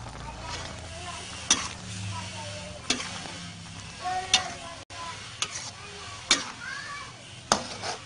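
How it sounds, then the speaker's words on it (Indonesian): Squid stir-fry cooked with its ink bubbles and sizzles steadily in a pan, with sharp clinks of a utensil against the pan recurring every second or so. "Setelah berapa saat mendidih, cumi sudah masak ya, sudah harum"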